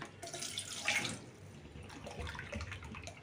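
Water pours steadily into a saucepan being filled for tea, a soft, continuous running splash at moderate distance with no speech over it.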